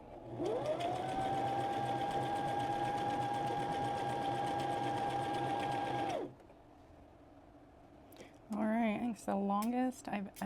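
A sewing machine stitches a quilt in a loud, steady whirring run that winds up and holds for about six seconds, then stops abruptly, followed by a quiet pause and someone talking.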